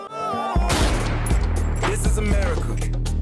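A burst of rapid gunfire erupts after a brief musical lead-in from a song, with loud overlapping shots and booms continuing over a busy, noisy background.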